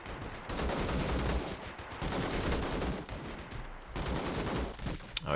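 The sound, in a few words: gunfire in a shootout, from a war video game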